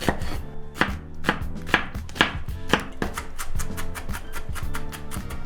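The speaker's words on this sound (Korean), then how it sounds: "양파도 잘게 썰고" Rapid, steady knife chopping on a cutting board, many crisp close taps in a quick even rhythm as an onion is diced finely.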